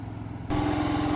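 A Cummins Onan QG2500i inverter generator running with no air-conditioning load, a steady mid-pitched engine hum that starts abruptly partway through and then holds constant and close.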